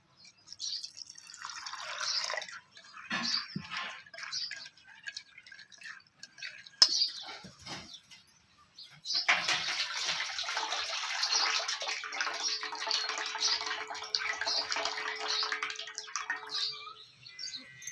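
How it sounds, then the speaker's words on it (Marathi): Water splashes and trickles as lentils are rinsed by hand, with dripping and sloshing, then a steady stream of running water for several seconds, close by. "परत एका पाण्याने धुते"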